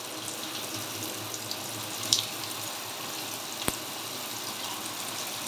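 Water runs steadily from a shower during hair washing, a constant close hiss with a couple of faint knocks and clicks.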